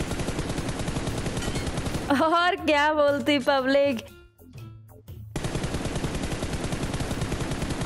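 Bursts of automatic gunfire in the video game BGMI crackle in rapid rhythm behind steady talk, with a brief pause in the shooting while a voice speaks alone.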